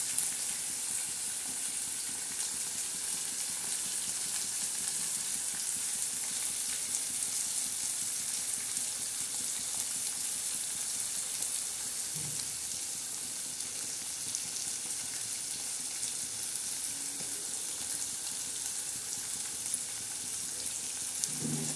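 A tempering roasts in a pan for upma, giving a soft, even hiss of frying that runs steadily throughout with a couple of faint knocks.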